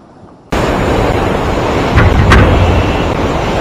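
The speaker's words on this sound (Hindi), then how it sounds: "ये देखें कितनी स्पीड से पानी आ रहा है" Fast-flowing water rushes with a loud, steady broadband roar that starts abruptly and continues without a break.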